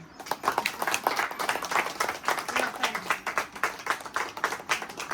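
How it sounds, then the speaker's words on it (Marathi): Guests at a 48th wedding anniversary celebration clap together in steady, rapid applause that continues throughout, fairly close and moderately loud, with a voice or two faintly mixed in. "टाळ्या."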